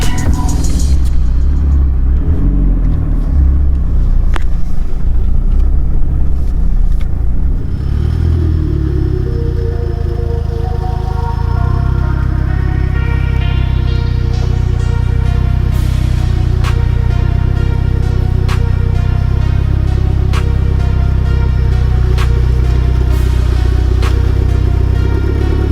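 A Mitsubishi Evo X starts up and rumbles loudly as it pulls out of a shop in snowy conditions, with clunks early on and then a steady close engine drone with rising tones.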